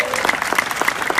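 An audience at a town hall in Las Vegas breaks into brief, dense clapping, a short burst of many hands heard close together with a murmur of voices beneath.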